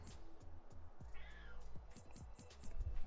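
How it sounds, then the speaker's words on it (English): A cat meows once, a clear rising-and-falling call in the middle, close by over a steady indoor background hum with soft low knocks. "You're gonna start meowing?"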